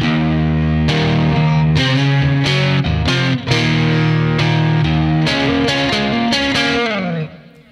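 Distorted electric guitar plays an intro riff, loud and continuous with rhythmic chord and note attacks over several seconds, then fading out.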